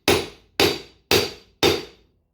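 Four evenly spaced hammer blows strike a part so its teeth cut into the casing during a BMW E61 electric conversion with a Jaguar drive unit, each a sharp, loud metallic hit with a brief decay, heard alone.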